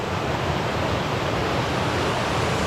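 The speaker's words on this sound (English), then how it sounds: "the water is making a lot of noise" Water rushing noisily in a village setting, a dense steady roar with no pauses, loud and close, with no voices over it.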